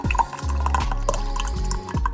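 Dosa batter made from Eastern instant dosa mix, thinned with water, is poured into a glass in several short glugging pours with drips. The pours are close and moderately loud, with no talking.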